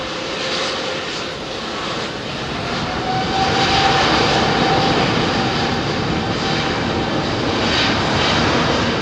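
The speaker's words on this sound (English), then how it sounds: "Okay, Finnair's A350, here we go, listen out." Finnair Airbus A350 jet departing London Heathrow runway 27R, a loud continuous engine roar that swells and grows stronger as the airliner accelerates past close by, with no talk.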